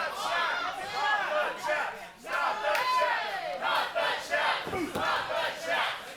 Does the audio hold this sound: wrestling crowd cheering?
yes